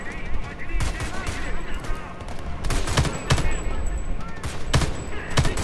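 Video game gunfire in Homefront: The Revolution, with repeated sharp bursts of automatic shots and rattling volleys cracking at a steady pace throughout, loud and close in the game mix.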